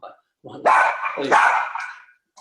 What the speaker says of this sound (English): Sorry for the noise of the dog in the background.